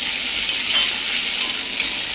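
Finely chopped green chilies roasting in a pan for upma, a steady hissing sizzle with light stirring, close and brief, no voices.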